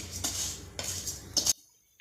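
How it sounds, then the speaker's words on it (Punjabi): A ladle stirs melting sugar in a pan for milk cake, making three close metallic scrapes against the pan, then it goes nearly quiet, with no speech. "ਆਪਾਂ ਕੜਛੀ ਦੇ ਨਾਲ ਚੀਨੀ ਨੂੰ ਹਿਲਾਉਂਦੇ ਰਹਾਂਗੇ ਜਿੰਨਾ ਟਾਈਮ ਇਹ ਮੈਲਟ ਨਹੀਂ ਹੁੰਦੀ"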